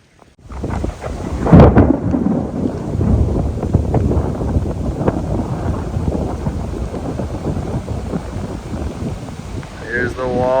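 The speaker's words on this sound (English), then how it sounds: "Here's the wall of rain." A thunderstorm with heavy rain rolls in over a lakeside canoe campsite, opening with a loud crack of thunder followed by a dense, steady roar of rain and wind noise.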